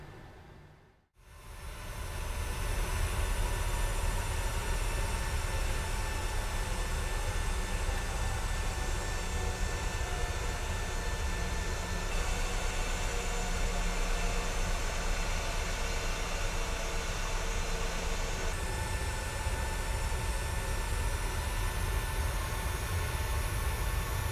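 Steady broadband roar of a PMDG 737-700 jet in a flight simulator game, loud and constant after a brief dip near the start, with tonal engine whine over a rumbling low end and no talking.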